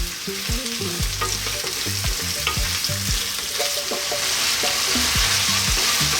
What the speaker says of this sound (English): we're going to cook this for about 5 or 6 minutes, pretty much stirring it all the time